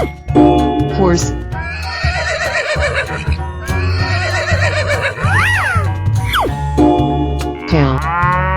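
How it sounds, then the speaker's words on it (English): A horse in a 3D animal slide video game neighs in repeated loud, shrill whinnies, alongside cartoonish animal calls and a steady game music bed with looping bass. "Horse."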